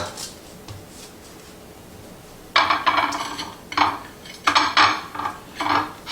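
A metal pan of buffalo ranch chicken clatters as it is pushed back into the oven, a few sharp metallic scrapes and clanks after a quiet start.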